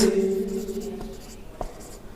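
A teacher writes a notice by hand, a faint scratching of pen on paper with a couple of soft taps. A low steady hum runs beneath it and no one speaks.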